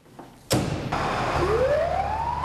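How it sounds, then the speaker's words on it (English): A loud fire truck siren starts abruptly after a short lull, a rising wail climbing steadily in pitch over heavy engine rumble, close by. "Fire truck sirens aren't exactly the kind of jingle bells anyone wants to hear"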